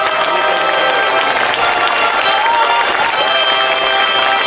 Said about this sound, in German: Jubel mit händiger Klappe.